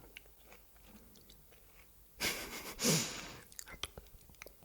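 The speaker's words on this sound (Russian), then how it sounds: "Представьте, елка, и вы прям взяли и откусили, как будто бы елку." Soft, close crunching bites and chewing of pine-flavoured food in a quiet whispered ASMR setting, with two louder crunches in the middle and light mouth clicks and breaths around them.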